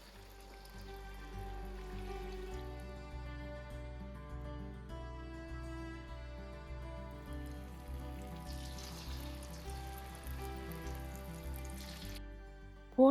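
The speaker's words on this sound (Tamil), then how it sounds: "இப்போ கரைச்சி வச்சுருந்த மாவில் இந்த உருண்டையெல்லாம் இப்படி தோச்செடுத்து பொரிச்செடுக்க வேண்டியதுதான்." Batter-coated green gram susiyam balls deep-frying in hot oil, a soft continuous sizzle and bubbling that stays steady throughout, faint and close with no talk.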